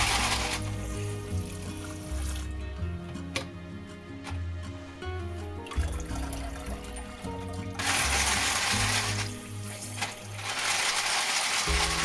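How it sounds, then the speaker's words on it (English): Tap water runs into a sink while ultrasonically cleaned brass cartridge cases are rinsed, giving a steady hiss of running water with the metallic ticks and clinks of the brass cases jostling throughout, close by. "I rinse it out in the sink. I'll change the water a couple times until it runs clear."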